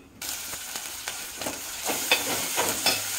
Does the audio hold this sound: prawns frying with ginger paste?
yes